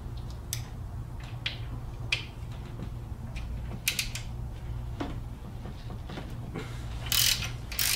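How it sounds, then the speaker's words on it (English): Mechanic's T40 Torx bit loosening the upper and lower bolts of a timing chain guide tensioner on a Dodge, Jeep or Chrysler 4.7L or 3.7L engine, giving sparse close ratcheting clicks, metallic creaks and small knocks in a quiet workshop. "using a T40 Torx to remove this upper bolt here on your guide tensioner and the lower one over here"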